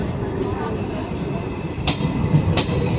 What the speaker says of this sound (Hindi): Indore Bareilly weekly express Bareilly Aligarh express को क्रॉस करते हुए अतरौली रोड रेलवे स्टेशन पर।